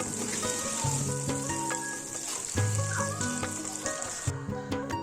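Fresh cream being stirred into paneer butter masala in a pan, a steady sizzle and bubbling with scraping stirs and clinks of a utensil throughout, close and continuous with no talk.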